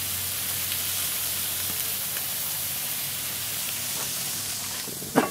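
Carne asada meat with peppers and onions sizzling on a Weber Genesis 330 gas grill, a steady broad hiss and crackle throughout, fairly close, ending in a brief clatter.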